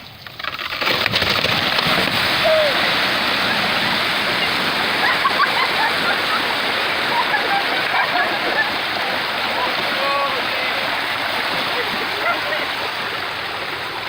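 Water drained from a swimming pool gushes out in a loud, continuous rush, splashing and churning steadily throughout.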